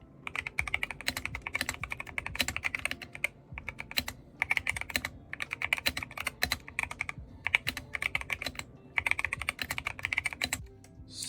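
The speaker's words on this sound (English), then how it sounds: "this is my normal keyboard that I've been using" Brisk typing on a mechanical keyboard with lubed Gateron Silver linear switches and lubed stabilizers, producing dense, soft clacky keystrokes in quick bursts separated by short pauses, close and clear with no talking.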